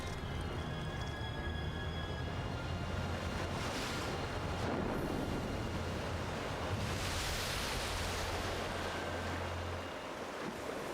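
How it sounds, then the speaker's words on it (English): Atlantic waves pounding the rocky coastline of County Kerry, Ireland, a continuous roar of surf with swells building and crashing twice, wind buffeting the microphone throughout. "This is the mighty Atlantic, striking the rocky coastline of Ireland's County Kerry with unrestrained fury."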